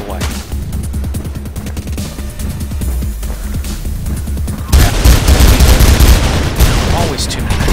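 In the Mirror's Edge video game, gunfire crackles in fast repeated bursts, first a steady rattle of shots, then a louder, denser barrage with booming impacts in the second half.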